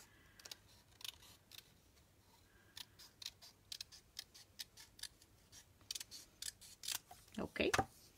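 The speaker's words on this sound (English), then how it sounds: "It's really sharp, the scissors here." Sharp, crisp snips of scissors cutting paper for junk journal crafting, irregularly spaced and growing busier toward the end, with a quiet room behind them.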